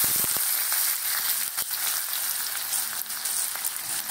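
Chopped onions hit a hot oiled pan while cooking red amaranth greens with poppy seeds, a few sharp clatters at first, then a loud, steady, close sizzle of frying with no talk.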